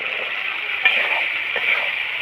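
Green peas dropped into a spice paste frying in oil in a wok, a steady hissing sizzle close by with a small splash and brief stirring scrapes as they go in.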